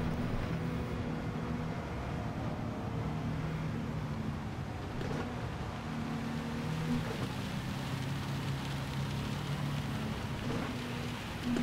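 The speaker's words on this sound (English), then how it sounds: "I thought the rain would be done with, but it's not." Steady rain hiss in the racing game Gran Turismo 7 during a Le Mans race, a broad continuous wash running the whole time with faint engine drone underneath and no talking.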